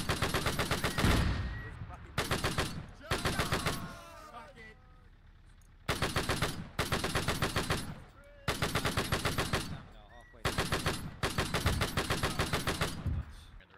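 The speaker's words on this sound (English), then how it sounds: "You see that machine gun?" Bursts of machine gun fire in the military shooter Arma 3, loud rapid automatic volleys in repeated bursts of about a second or more, separated by short gaps where people talk over radio.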